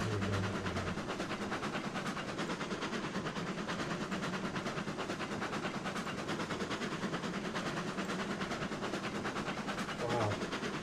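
A slow train in the game Railroads Online rumbles along at about five miles an hour, with a steady low mechanical drone and faint rhythmic rail clatter running throughout at moderate level.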